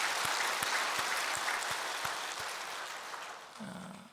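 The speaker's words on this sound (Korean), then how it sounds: "주님께 영광의 박수 올려드립니다." A church congregation claps for God's glory, a dense, fairly loud patter of many hands with a few sharp accents that gradually fades out, followed by a brief low tone at the end.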